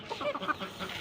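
Domestic laying ducks give a quick series of short, nasal calls close by, overlapping and irregular in rhythm.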